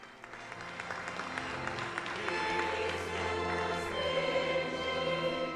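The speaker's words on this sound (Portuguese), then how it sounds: "E depois da benção do Papa Leão XIV aos presentes, em meio aos aplausos," Crowd applause after Pope Leo XIV's blessing at a prayer gathering in Istanbul, Turkey, steady and dense, with choir singing rising over it.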